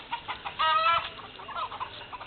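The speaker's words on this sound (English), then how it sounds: "I hear my chickens." Chickens cluck nearby in short, soft bursts, with one louder drawn-out squawk in the middle.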